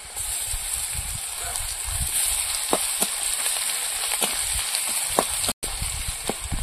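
Chopped onion and garlic sizzle steadily in hot oil with cumin seeds and bay leaf, a continuous close crackle broken by sharp spatter pops and brief stirring scrapes.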